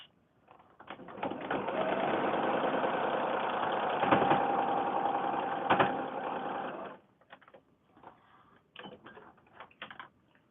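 A sewing machine runs steadily for about six seconds, stitching a quarter-inch seam to join foundation paper-pieced kaleidoscope snowflake pieces, then gives a few short bursts and clicks afterward; no talking.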